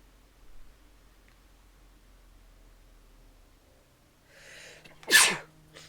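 A single sharp sneeze bursts out near the end after a faint preceding intake of breath, against an otherwise quiet room.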